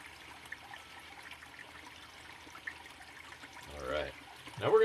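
Water runs steadily through a gold paydirt sluice, a soft continuous trickle and flow, with a louder gush of pouring or splashing near the end.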